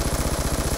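Rapid automatic gunfire in the video game Black Ops 2, a loud, even burst of closely spaced shots lasting under a second.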